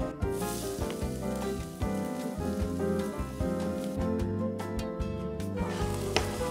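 Chopped onion and leek sautéing in a drizzle of olive oil, a continuous dense sizzle with crackling pops, close and steady throughout.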